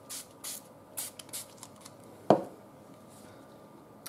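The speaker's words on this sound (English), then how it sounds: "I'm going to kind of spray it from farther away" Several short hissing bursts of a spray can, close and fairly quiet, in an uneven rhythm, with one sharp click in the middle.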